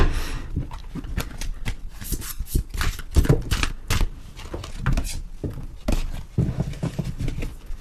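Oracle cards being shuffled for a tarot reading, a dense run of quick papery riffles and soft slaps close up, with no talking over them.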